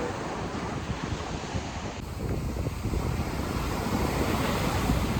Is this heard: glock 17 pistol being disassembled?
no